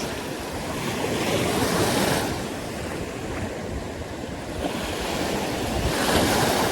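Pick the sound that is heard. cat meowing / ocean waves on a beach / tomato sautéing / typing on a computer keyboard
ocean waves on a beach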